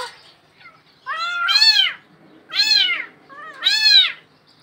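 A cat meows from inside a well in three loud, drawn-out, rising-and-falling calls separated by short pauses. No one speaks.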